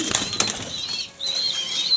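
Pigeons flap their wings in a loft, a burst of fluttering wingbeats filling two seconds with a brief lull in the middle, close and fairly loud, with no talking.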